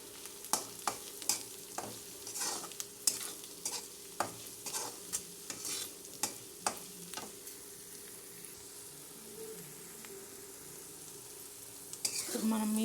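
A spatula stirs chili powder and salt masala in a frying pan for meal maker fry, with irregular close scraping taps over a faint sizzle, a quieter stretch, then a sharp clatter at the end.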